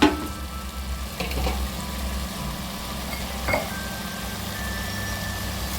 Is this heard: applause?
no